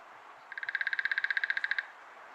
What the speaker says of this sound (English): And here is the drumming of the Downy Woodpecker.